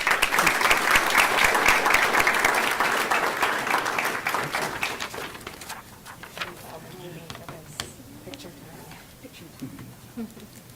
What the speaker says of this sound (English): Please join me in his absence for a round of applause.